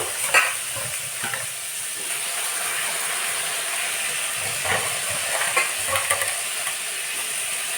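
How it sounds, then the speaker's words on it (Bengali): Chopped greens simmer in water in a wok, making a steady hiss and bubbling with a few stirring scrapes, moderately close and without speech. "কড়াইতে দিয়ে দেব জল তারপরে শাকগুলো দিয়ে দেবো একটুখানি সিদ্ধ করব শাকগুলো"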